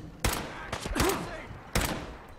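Gunfire from the Fallout 4 video game: three sharp, punchy shots spaced about half a second to a second apart, with a brief wavering tone between them, fairly quiet overall.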